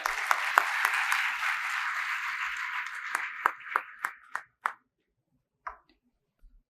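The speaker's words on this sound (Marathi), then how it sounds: "जोरदार टाळ्या" An audience at a UPSC civil services guidance session applauds for an IPS officer, a dense burst of clapping that thins into a few scattered, separate claps before fading out.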